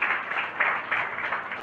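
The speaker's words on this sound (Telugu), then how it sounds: "ఇప్పుడు కొడదామా చప్పట్లు?" Congregation clapping together during a Sunday worship service in a church, a steady dense patter of many hands held at even loudness throughout, with no voices over it.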